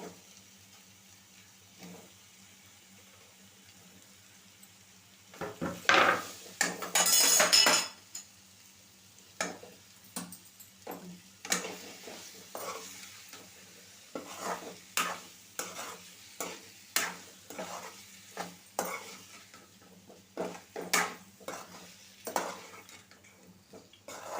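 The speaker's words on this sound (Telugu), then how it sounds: "ఇప్పుడు దీంట్లో కట్ చేసి పెట్టుకున్న బంగాళాదుంప ముక్కల్ని వేసేసుకోవాలి" Cut potato pieces tip into a hot pan of oil and begin frying, a burst of loud sizzle followed by repeated scraping and stirring clinks of a utensil against the pan while the frying goes on.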